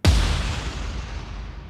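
A Fast Puncher cinematic impact from the Ana 2 effects library lands as one sudden heavy boom with a deep low thump, then fades into a long rumbling tail over more than a second.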